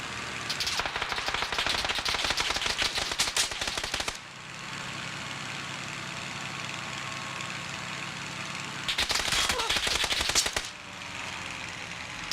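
SMG gunfire in the video game Arc Raiders: two long sustained bursts of rapid automatic fire, loud and close, separated by a quieter stretch of game ambience with no talking.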